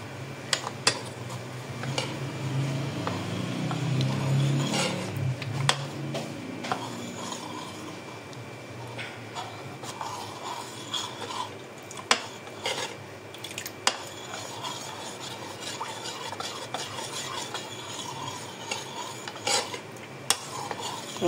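Mango custard powder mix being stirred in a bowl: a steady scraping, clinking stir of a spoon against the dish, loudest early on and continuing with scattered small knocks and taps, no talking.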